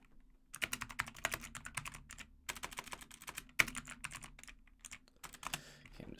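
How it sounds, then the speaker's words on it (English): Rapid, uneven typing on a computer keyboard during setup for a GDU versus Horst match, close and clear with short pauses between bursts of keystrokes. "I'm just typing to the team leaders"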